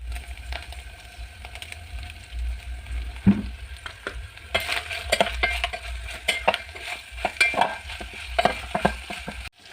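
Meat frying in a pan while being stirred, a steady close sizzle with a run of sharp utensil scrapes and clicks growing busier partway through.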